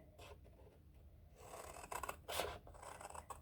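Scissors snip through card stock along a score line while a handmade Christmas ephemera box is shaped, giving quiet, intermittent rasping cuts that grow louder and denser toward the end, heard alone.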